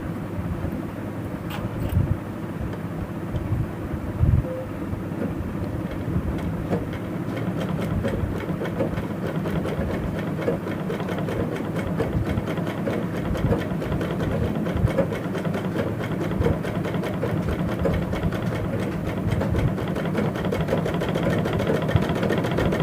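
A sewing machine stitches with its upper thread tension tightened, giving a steady, rapid mechanical whir with a fine rhythmic chatter that runs continuously and close, with no talking.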